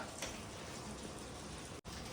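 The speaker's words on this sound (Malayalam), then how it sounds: "ഇപ്പൊ ഒരു രണ്ട് മിനിറ്റ് ആയുള്ളൂ ഭയങ്കര ശക്തിയിൽ മഴ വീണു" Heavy rain pours down in a steady, dense hiss that fills the scene without letup, briefly cutting out for an instant near the end.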